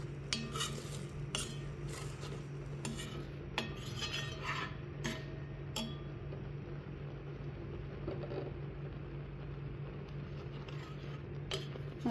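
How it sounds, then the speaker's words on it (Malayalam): A spoon stirs ingredients into mushroom payasam in a pot, with scattered clinks and scrapes of metal against the vessel over a steady low hum, fairly faint and close. "ഇനി അതുകൂടെ ഒന്ന് ഇളക്കി മിക്സ് ചെയ്യട്ടെ ഇതിലോട്ട്"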